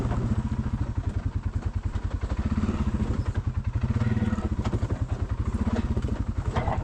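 A side-by-side off-road vehicle grinds over a rocky trail, its engine pulsing in a fast steady rumble with clattering knocks from the rocks, close and loud throughout.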